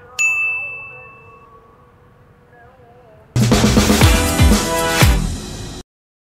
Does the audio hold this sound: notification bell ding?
yes